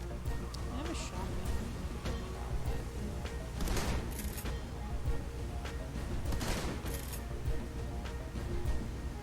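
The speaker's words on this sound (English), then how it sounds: "I have a shotgun" Shotgun blasts in the video game Shadowrun: Hong Kong, two loud broadband bursts a few seconds apart over a busy game soundscape, with a voice talking throughout.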